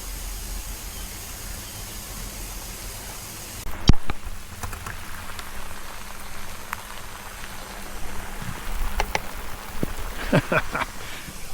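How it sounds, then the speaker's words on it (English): Water sprayed over a Royal Enfield Hunter 350 motorcycle, giving a steady rain-like hiss of droplets pattering on the bike, with sharper splashes and taps near the middle and end. "I had to make my own rain. So the bike's had a good old drenching"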